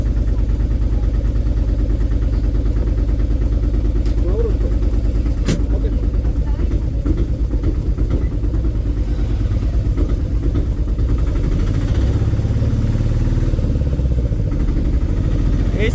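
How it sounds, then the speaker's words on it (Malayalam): Vehicle engine running steadily while driving toward a temple parking area, a continuous low rumble close by throughout with a voice talking over it. "നമുക്ക് വണ്ടി കൊണ്ട് പാർക്കിംഗ് കൊണ്ടിട്ട് നമുക്ക് ഇങ്ങോട്ട് വരാം"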